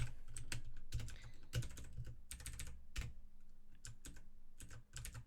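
Fast clattering keystrokes on a computer keyboard while coding, irregular bursts of close, fairly quiet clicks with brief pauses between runs, no voice.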